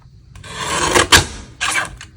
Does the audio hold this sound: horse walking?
no